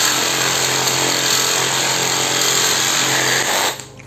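A Worksite CJS-326 cordless jigsaw cuts through iron with a loud, steady buzzing rasp at close range that stops abruptly near the end, leaving a brief clatter, with no voices.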